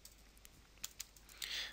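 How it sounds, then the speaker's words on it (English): Typing on a computer keyboard during a Grasshopper software tutorial, a few sparse faint key clicks followed by a quick burst of keystrokes, close and quiet with no talk. "We could also get rid of the grid by typing grid"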